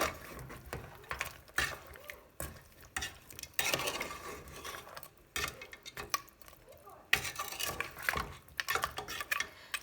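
A spoon stirs and scrapes through mutton curry with salt in a pot, irregular clattering strokes with some sizzling, and a voice talks in between.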